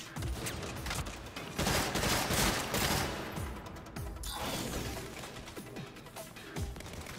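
Repeated sniper and rifle gunfire in the Saints Row video game, a dense fusillade of cracking shots, loudest in the middle, with rapid bursts continuing throughout and no talk.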